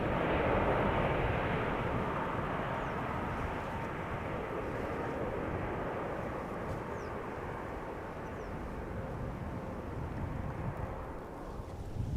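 An airliner takes off from Schiphol's Polderbaan runway with a loud, sustained jet roar that rumbles deep and broad for several seconds, then eases slightly as it continues.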